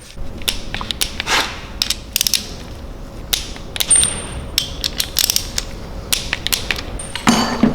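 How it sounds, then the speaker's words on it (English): A ratchet clicks as bolts are tightened on the timing chain of a BMW M62 V8 engine. Short bursts of metallic clicks and clanks are close by in a quiet workshop, with no speech. "tighten it up, and after that the timing chain. Upper ones going to tighten it up to 15 Newton meters, and the lower one to 10."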